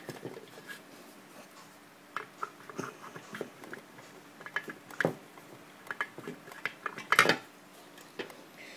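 Plastic top cover being fitted back onto an Autotrol water softener valve, a series of light clicks, taps and small knocks at close range, sparse and irregular with one sharper clatter near the end.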